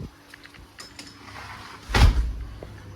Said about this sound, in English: I should close the house door.